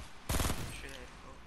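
A short, sharp burst of rapid automatic gunfire erupts in the video game Fortnite, lasting about a quarter second before fading into background noise, with players talking nearby.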